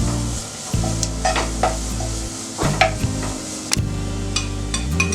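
Onions frying on medium flame while being stirred, a continuous sizzle with repeated scraping and clinking of a utensil against the pan, plus a low steady hum underneath.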